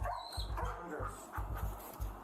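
A police dog brought into a building during a body-camera search, heard as several short, fairly faint barks and whimpers spaced irregularly over a steady low background hum.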